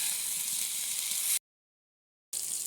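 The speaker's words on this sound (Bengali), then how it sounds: "তেলে দিয়েছি, এখন দিলাম এই যে আদা বাটা দিলাম" Ginger paste sizzles in hot oil, giving a bright, even hiss up close that drops out completely for about a second before the hiss resumes.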